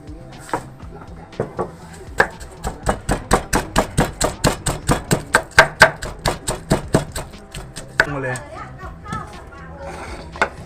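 Garlic is pounded in a mortar for homemade suki, with a rapid run of about twenty sharp, evenly spaced thuds up close, followed by clattering, and speech around it.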